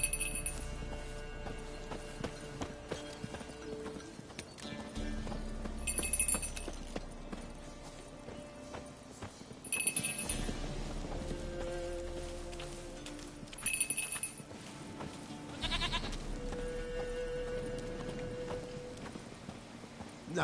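Horse hooves clip-clop at a steady walking rhythm in The Witcher 3: Wild Hunt, close and clear over a sustained game music bed, with occasional bright chimes and no audible talking.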